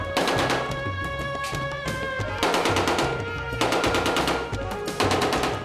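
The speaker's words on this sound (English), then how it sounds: "No one bats an eyelid here as gunfire racks the streets." Rapid bursts of automatic gunfire crackle through the streets of Bishan, Pakistan, dense, loud and nearly continuous, with dull booms and brief gaps between volleys.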